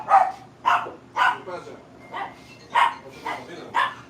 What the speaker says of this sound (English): Listen, you gotta watch these dogs, man.